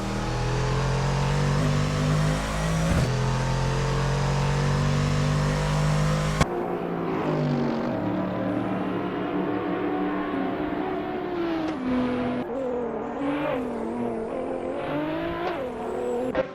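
GTR race cars roar around the Monza circuit in a racing video game, engines revving and shifting continuously, with cars passing close by and changing pitch as they accelerate.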